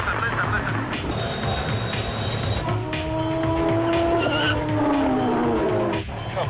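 Race car motor with a problem, a loud engine whine rising and falling unevenly with tire squeal, heard under commentary.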